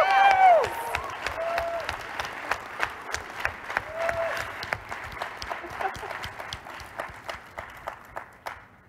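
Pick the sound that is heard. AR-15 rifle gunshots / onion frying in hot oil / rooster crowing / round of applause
round of applause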